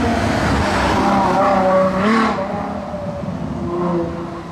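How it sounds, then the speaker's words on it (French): A V12 sports car roars through Monaco streets at night, its engine loud and close, surging and then easing off as it passes, running unevenly with jerky bursts. "Le V12 hurlant."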